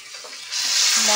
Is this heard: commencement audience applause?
no